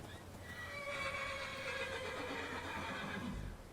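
Video game horse giving a long, clear whinny with a rising and falling pitch, loud and alone over a faint background hum, marking a level-up.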